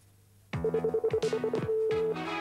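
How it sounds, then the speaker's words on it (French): A telephone rings in a rapid electronic trill of repeated short pulses, loud and close, starting abruptly after a brief quiet opening and ending in a sustained tone. "Allô, Marie-Laure? Allô"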